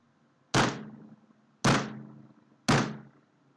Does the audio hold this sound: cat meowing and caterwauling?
no